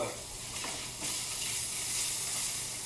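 Hot dogs frying in butter in a pan give off a quiet, steady sizzle and hiss that swells slightly after the first second and carries on evenly to the end.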